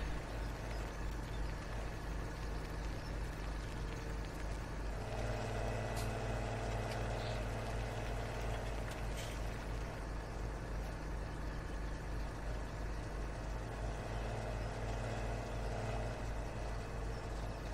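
A tractor engine idles in Farming Simulator 17 with a steady, low mechanical drone that holds evenly throughout, close and unbroken, with no voices.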